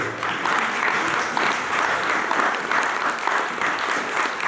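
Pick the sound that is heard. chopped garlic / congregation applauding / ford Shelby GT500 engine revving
congregation applauding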